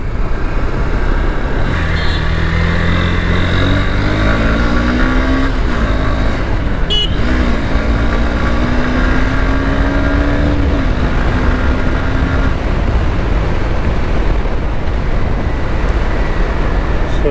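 A Honda CB200X motorcycle rides along an open road, its engine droning steadily with rising and falling pitch as it shifts, wind rush constant, and a brief horn-like tone midway.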